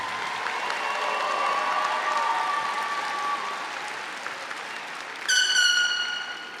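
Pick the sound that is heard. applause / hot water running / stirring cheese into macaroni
applause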